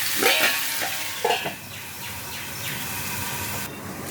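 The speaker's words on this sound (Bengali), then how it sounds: "সমস্ত মাছটা দিয়ে দিলাম, দিয়ে একটু ভালো করে নাড়াচাড়া করে দু মিনিট ঢেকে দেবো আমি মাছটা।" Lote fish (Bombay duck) sizzling steadily in a hot pan, with a few louder scraping bursts from stirring near the start and again around the middle, close and fairly loud, no talking.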